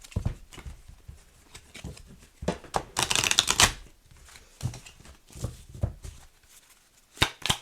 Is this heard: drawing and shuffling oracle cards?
yes